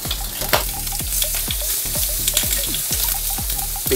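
Trimmed sirloin steak fat frying alongside bacon in a pan, a loud continuous sizzle broken by regular sharp spatters and pops roughly every half second, close up and with no talking.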